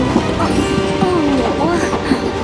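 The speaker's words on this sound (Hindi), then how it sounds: "चुप्पी, तुम सबको लेकर इंजन रूम में जाओ और इस ट्रेन को रोकने की कोशिश करो।" A moving cartoon train rumbles steadily on its rails with rhythmic clatter, loud and continuous under animated voices talking.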